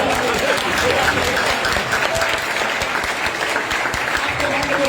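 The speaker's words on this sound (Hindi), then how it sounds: "आप जो ताली बजा रहे हैं ये आदर की बात है।" A congregation claps loudly and continuously at a church conference sermon in Dubai, with the busy, even applause holding for several seconds while a voice speaks over it.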